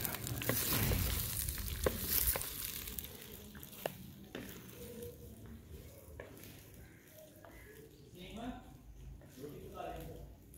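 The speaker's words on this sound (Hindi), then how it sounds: "और सब्जियों को थोड़ा भून लेंगे।" Green beans and potatoes frying in a pan with green chilies, a soft steady sizzle with stirring scrapes and occasional clinks, heard beneath someone talking.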